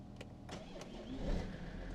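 A car engine cranks and catches with help from a Lokithor JTC4250 jump starter, a steady mid-pitched churn over a few seconds with no talking.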